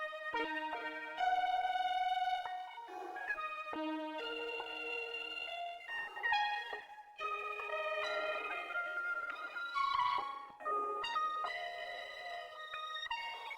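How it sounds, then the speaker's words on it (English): An eerie ear candy synth sound layered over the chords of a dark trap beat: bright, echoing, ringing tones in short repeating phrases with reverb and gaps between them, fairly quiet and alone. "Next part I added this ear candy sound."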